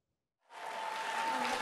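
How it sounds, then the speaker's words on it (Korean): Movie theater sing-along audience breaking into steady clapping, a crowd of hands starting from silence and quickly swelling into continuous, even applause, somewhat distant. "객석에 앉은 사람들이 다 같이 손뼉을 치며 노래를 부르고 영화를 감상합니다"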